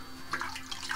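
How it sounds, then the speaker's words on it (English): Water being stirred by hand in an aquarium tank during maintenance, with soft intermittent sloshing and splashing close by at low volume. "I give it a bit of a stir just to make sure it mixes"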